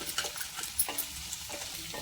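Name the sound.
eggs frying in a pan for egg fried rice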